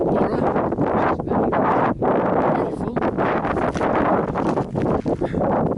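Strong wind gusts on a high hilltop lookout above the town of Burra buffet the microphone as a loud, continuous rushing roar with brief dips, lasting under six seconds.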